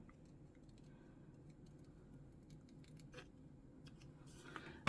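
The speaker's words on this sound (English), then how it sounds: "Let me just got my tiny scissors and just cut these flowers down slightly." Tiny scissors snip paper flowers during decorating with packaging, scraps and book pages, a few faint, quiet clicks and rustles near the end over a soft room hush.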